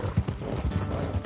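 Horse hooves clip-clop in a video game as the horses are ridden along a road, a steady rhythmic beat of close, moderately loud footfalls with no talk over them.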